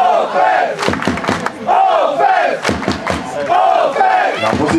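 A loud crowd at an American football game between the Owls Bielawa and the Zagan Shadows roars and chants in rhythmic surges, with whoops and thumps, close and dense throughout.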